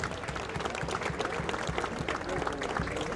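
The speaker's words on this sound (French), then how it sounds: "monsieur le président, monsieur Yann Rivoal, on peut bien sûr tous les applaudir." Applause from the crowd at a French Cup basketball semi-final fills the hall, dense and continuous clapping with no clear voices standing out.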